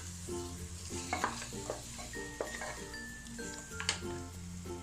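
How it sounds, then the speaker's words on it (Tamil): Onion masala mixed with yogurt is sautéed in a pan, giving intermittent spoon scrapes and light clinks over a faint sizzle, with soft tonal music running underneath. "இதையும் சேர்த்து ஒரு நல்லா வதக்கிடலாம்"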